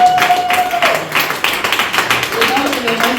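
An audience claps at a business talk, a moderately loud run of rhythmic hand claps mixed with crowd noise and a voice rising and falling underneath.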